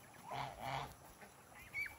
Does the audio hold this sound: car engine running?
no